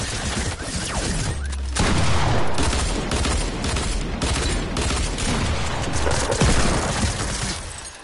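Rapid bursts of video game gunfire crackle in dense, overlapping volleys through a shooter match, loud and continuous with sharp spikes and no pause.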